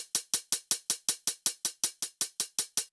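An 80s-style hi-hat with a light Space Modulator chorus effect plays sixteen evenly spaced, bright metallic ticks in a steady, quick rhythm. It is soloed and fairly quiet, and each hit decays sharply.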